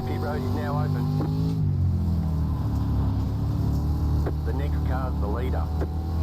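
Dirt street stock race car engines at USA Speedway in iRacing, a steady loud engine drone with rising revs as a car accelerates, several cars audible, while someone talks over it.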